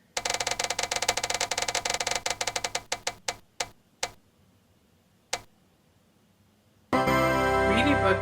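An online spinner wheel clicks rapidly at first, its ticks slowing and spacing out until they stop, before a burst of loud sound rises at the end.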